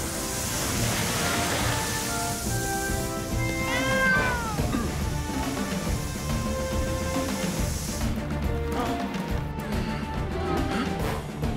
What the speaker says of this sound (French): Sam, le chat est resté à l'intérieur de la maison